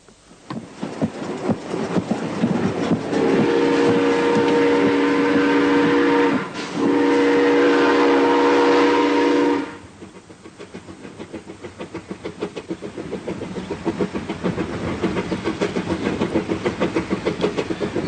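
A steam train passes close by with a loud, sustained whistle blast lasting several seconds, briefly broken and then resumed, followed by the rhythmic chuffing and rattle of the engine and wagons running on.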